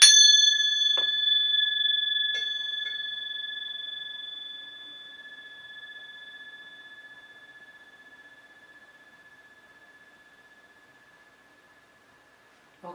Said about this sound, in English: just relax and listen to the gong